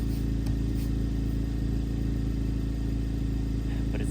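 A Honda Civic Type R engine idling, a steady low rumble with an even, continuous drone and no revving, heard close from inside the car.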